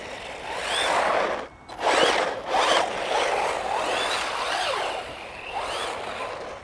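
An RC car runs along a straight path with a high, whining electric motor buzz and gritty tyre rumble, rising and falling in pitch as it speeds away and passes, fairly close with no talking.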